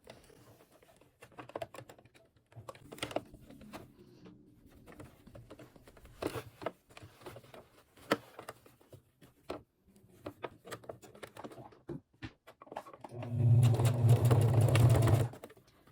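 A sewing machine stitches a lined bag's seam in short, scattered bursts, then runs in a louder steady whir near the end.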